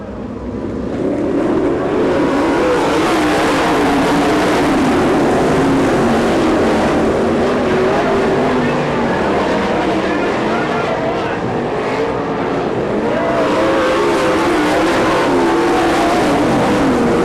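A pack of race cars roars in an All Star Circuit of Champions dirt track heat race at a Hoosier fall event, a loud continuous engine drone with rising and falling revs over a long stretch, with speech faintly underneath.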